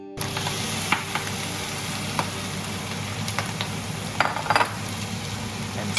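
Marinated meat stir-frying in a pan for a Chinese pumpkin rice dish, a steady loud sizzle with a few sharp clinks of a utensil against the pan.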